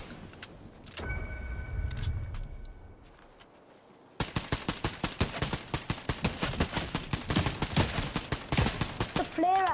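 Fortnite gunfire starts partway in as a long, rapid string of sharp automatic shots that keeps going to the end. A car engine hum and brief clicks come before it, and a voice is faint underneath.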